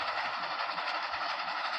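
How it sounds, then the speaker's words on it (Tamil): Game train rolling along rails in Dead Rails, a steady broadband rumble and hiss with no distinct clacks, continuous and fairly close for the whole stretch. "This is the killer train."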